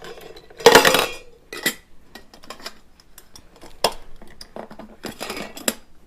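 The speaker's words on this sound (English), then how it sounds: "my Stanley pot is big enough that I can throw this and my fire starting stuff into the pot" Metal camping cookware clinking as an MSR stove kit and fire-starting gear are packed into a Stanley pot, with a loud burst of rattling early on, then scattered lighter clinks and clatters.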